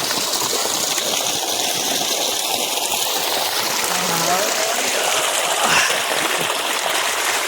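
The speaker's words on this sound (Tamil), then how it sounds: "பம்பில் வந்துட்டு தண்ணி வந்துட்டுருக்குது." Water gushing hard from a pump outlet in a farm field, a loud, continuous rushing splash with a faint engine hum underneath, and talk over it.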